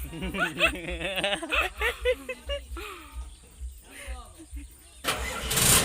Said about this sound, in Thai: อุ้ยเอารถเกียวสตาร์ทแล้วครับ